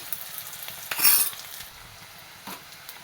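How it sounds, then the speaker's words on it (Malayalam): Chopped onion and a small piece of ginger frying in oil, a gentle sizzle broken by a bright metallic scrape of a utensil against the pan and a later soft clink, no speech. "ഞാൻ ഓയിൽ ഒഴിച്ചു കൊടുത്തു ഒരു സവാള കട്ട് ചെയ്ത് ഇട്ട് കൊടുത്തു ഒരു ചെറിയൊരു കഷ്ണം ഇഞ്ചി"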